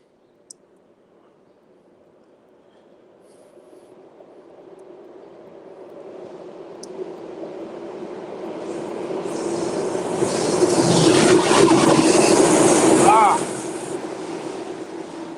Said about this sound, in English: feels like I hadn't heard the train in a while